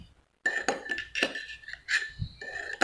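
A spoon clinks lightly and repeatedly against a dish at a meal of bua loy dessert, a few bright taps in quick succession, close up, with no talk over them.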